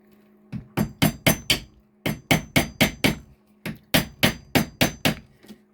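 A small, old Baltine hammer strikes in quick bursts of four or five sharp, ringing blows, pausing briefly between each group during a pocket door repair with scrap wood; close and clear with no talking.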